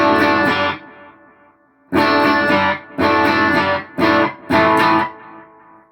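An electric guitar played through a Boss Katana amp on the pushed channel with the variation effect on, caught by a room mic: thick, effected chords strummed in several loud bursts separated by short gaps, with no talking.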